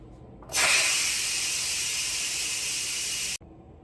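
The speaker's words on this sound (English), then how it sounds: "so let's quick release the steam" A loud, steady hiss of steam venting from an Instant Pot pressure cooker on quick release starts abruptly, holds for about three seconds, then cuts off sharply.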